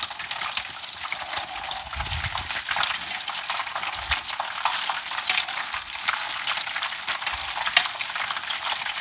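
Panko-crumbed chicken tenders with blackened seasoning fry in a pan with a dense, continuous sizzle and crackle, and a few low thumps and tong clatters under it.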